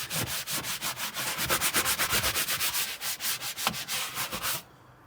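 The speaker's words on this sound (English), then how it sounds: "I like to change different directions when I'm scrubbing." A brush scrubs a leather car seat in quick, rhythmic back-and-forth strokes, close and fairly loud, changing direction as it works the grain, then stops abruptly.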